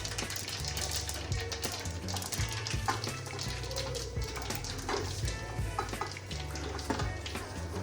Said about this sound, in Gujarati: તલ ફૂટી જાય પછી આપણે એમાં પાત્રા ઉમેરીશું।